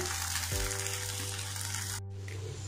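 Dosa batter cooks on a hot pan with a soft, continuous sizzle under a steady low hum; a brief clatter of a utensil sounds early, and the frying noise cuts off sharply near the end.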